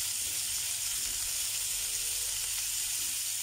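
Meatballs on sticks sizzle steadily while cooking, a constant bright hiss of frying fat with a soft low rumble beneath and no voices.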